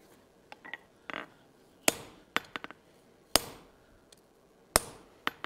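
Hot iron is forged into a colonial-style trivet on an anvil: sharp, ringing hammer blows come in irregular clusters, several loud strikes with quick lighter taps between, set against a quiet workshop.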